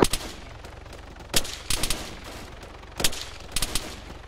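Supporting gunfire in the military shooter Arma 3 crackles as scattered single shots and short automatic bursts, fairly distant and echoing over a low hum.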